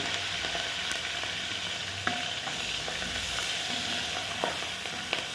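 Curry leaves crackle and spit in hot oil with turmeric, part of a raw mango and green chilli chutney, a steady sizzle broken by sharp pops and the scrape of stirring, close up and alone.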